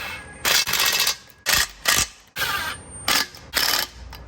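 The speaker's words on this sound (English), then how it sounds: "I'm gonna go ahead and put the rest of the bolts in and tighten everything up" A ratchet tightens 13 mm bolts on the manifold riser of a 2010–2016 Genesis Coupe 3.8 engine, producing close bursts of rapid clicking separated by brief pauses.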